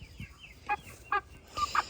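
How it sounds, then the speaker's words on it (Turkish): A chicken clucks several times in short bursts, close and fairly quiet, with soft background noise between calls. "Şuradan da bir tavuk yakaladık. Hemen dibimize geldi."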